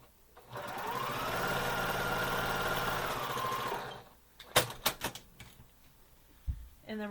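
A sewing machine runs in one steady close burst of about three seconds as it stitches across quilt block corners, followed by sharp clicks and handling taps as the fabric is moved.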